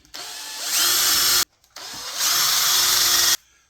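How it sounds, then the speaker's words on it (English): A power drill boring pilot holes in wood runs in two close, loud bursts of about one and a half seconds each, whirring up with a rising grind as the bit bites, separated by a short silence. "Now using those 4 marks, I'm going to put 4 pilot holes in."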